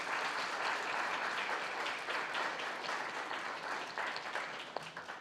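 An audience at a collegiate competition applauds the five teams, a dense, sustained wash of clapping from many hands that fades slightly toward the end.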